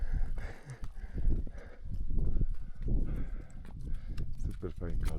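Horse walking a mountain trail up Rainbow Mountain in Peru, hooves clip-clopping steadily and close by while people talk throughout.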